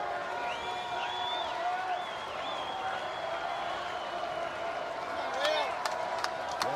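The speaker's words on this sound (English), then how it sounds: "Standing and cheering in places." A college baseball crowd at a Kansas versus Texas game stands and cheers. The cheering is steady and fills the background, with whistles and whoops rising over it near the end.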